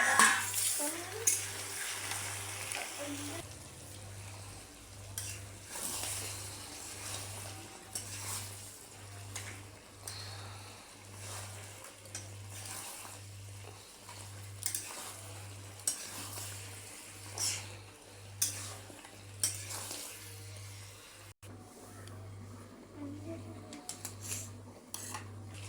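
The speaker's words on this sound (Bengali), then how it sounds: "মাংসটা আমার ভাজা হয়ে গেছে।" Mutton fries in a pot with a gentle sizzle while a spoon stirs it in frequent clanks and scrapes against the metal, close by, over a steady low pulsing hum.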